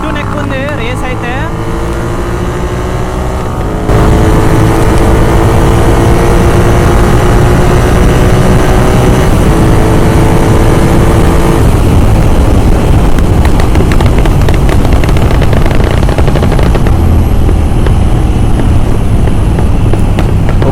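Two tuned GT 650 motorcycles race neck to neck, engines roaring loud and sustained at high revs with heavy wind rush, a steady close drone filling the whole stretch.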